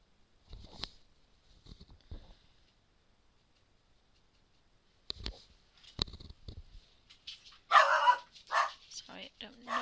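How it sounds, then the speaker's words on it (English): A dog barks a few times in short, sharp bursts, fairly near, separated by quiet gaps, with some scuffling sounds toward the end. "sorry, no idea what he's barking for"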